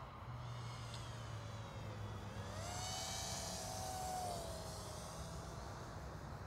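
An HGLRC Rekon 5 Lite sub-250g 5-inch FPV drone flies past, its motors whining and shifting pitch as it speeds up and banks, loud and steady over wind noise.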